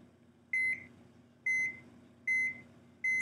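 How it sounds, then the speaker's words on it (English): Four evenly spaced electronic beeps, short and high-pitched, sound roughly once a second over a quiet background hum from a Cardiograph heart rate app on an Android phone. "You heard it go beep, beep, beep, and my heart wasn't doing that."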